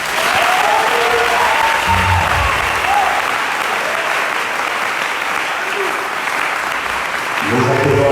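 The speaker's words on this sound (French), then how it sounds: "Acclamez." A church congregation at a Sunday service breaks into sustained, loud applause that fills the room evenly for several seconds, with brief voices rising faintly near the end.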